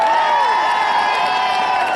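Large outdoor crowd at a Women's March anniversary rally at Morristown's Town Hall, New Jersey, cheering and whooping continuously, loud and close, with scattered claps and high shouts.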